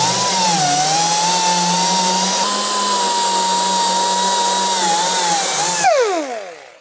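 A handheld power tool strips old glue from the inner pinch weld of a 1960s GMC/C10 truck cab, whining at a loud, steady high pitch with slight load dips, then winding down to silence as it is switched off.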